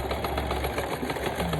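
A sewing machine stitches with a steady, rapid mechanical whir and fine rhythmic ticking, close and continuous.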